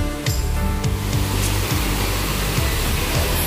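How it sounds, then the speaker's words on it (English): A loud waterfall at Coban Lanang in Indonesia roars close by as a steady, dense broadband rush, with faint low thumps underneath and no speech. "I'm talking really loudly because the waterfall is right there and really loud"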